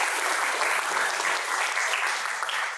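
A church congregation applauds the day's flower arrangement, a brief, even burst of many hands clapping that fills the room without talk over it.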